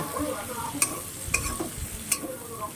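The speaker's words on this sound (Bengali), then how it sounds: "এটাকে আমি এই চিংড়ি মাছের সাথে পুরোপুরি ভেজে নেব।" Onions, tomatoes and chillies fry with prawns in a soft sizzle while a utensil scrapes and stirs the pan a few times.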